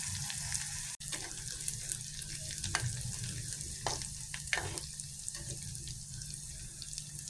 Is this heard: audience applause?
no